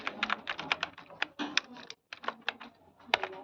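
Keys on a computer keyboard clatter as a unit name is typed into Tally ERP 9 accounting software, a quick, close run of clicks with one brief pause partway through.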